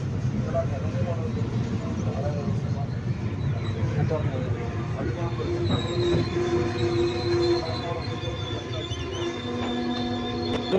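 A passenger train on the Palani to Pollachi line, near Udumalaipettai, rumbles steadily along with loud clattering wheels and metallic squeals, while a person talks over the noise.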